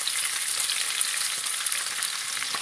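Diced yellow onions fry in a pan with a steady, close hiss of sizzling oil and faint scattered pops, heard alone without any talking.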